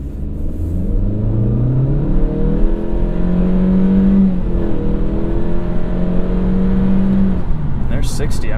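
A 2016 Honda Civic Touring with a CVT accelerating to 60, its engine holding a steady, loud droning hum inside the cabin, with rising tones and a faint voice near the end.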